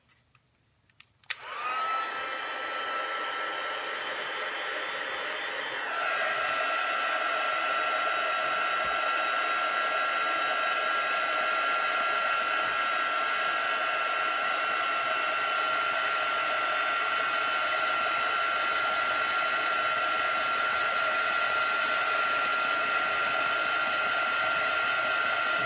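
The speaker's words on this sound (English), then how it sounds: "I'm going to use my heat gun and just put some heat to it." A heat gun blows hot air onto a craft project to dry it, switching on with a click and then running as a steady loud whir that rises slightly in pitch and holds, close and alone.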